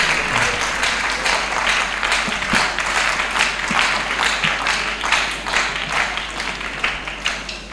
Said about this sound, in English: you can give him a very big round of applause